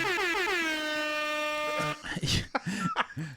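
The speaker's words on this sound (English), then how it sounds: "there's definitely no other sound bites than the damn air horn" A soundboard air horn blares in a long, loud, steady blast that wavers slightly in pitch, then cuts off abruptly as people start talking.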